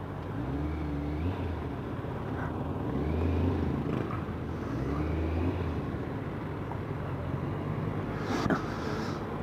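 Honda car, a 1.2 or 1.6 with four exhausts fitted, idling and rumbling low and steady nearby on a blocked-off Philippine street, with other traffic around.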